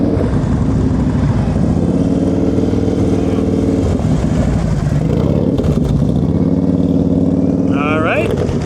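A motorcycle engine idles and burbles at low revs during an advanced slow-speed riding practice session in Ohio, steady and close throughout with small throttle swells, while a voice talks over it.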